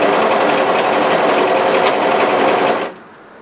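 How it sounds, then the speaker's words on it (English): A sewing machine runs loud and steady, stitching three raw edges of a sweatshirt together in one continuous whir that cuts off near the end. "sew all those three raw edges together"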